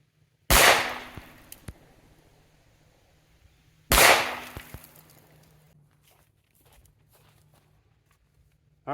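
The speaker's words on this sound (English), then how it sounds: "Let's put up some new targets, fire 2 more rounds this time at 7 yards" Two loud, sharp gunshots from a Bond Arms Rough & Rowdy 45/410 derringer pistol fired at targets seven yards away, about three and a half seconds apart, each followed by a short ringing decay and faint clinks.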